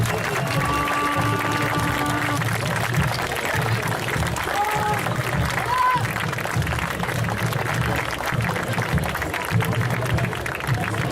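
Loud, sustained audience applause at a cosplay contest at Festival Yggdrasil 2019, filling the whole stretch, with crowd noise and a few cheers mixed in.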